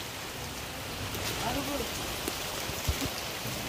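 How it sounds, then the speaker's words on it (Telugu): Heavy rain pours down in a constant dense hiss, with scattered louder drops splashing on nearby surfaces and a faint voice briefly in the background. "వర్షం మాత్రం తీవ్రంగా పడతా ఉంది"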